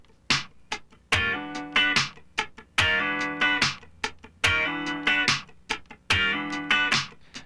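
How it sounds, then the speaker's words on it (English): Funk rhythm guitar slide pattern, left hand holding the chord while the right hand floats, giving repeating bars of ringing chord stabs and quick muted ghost strums, close and clean with a steady groove. "The first one is the slide, holding the left hand down and floating the right hand,"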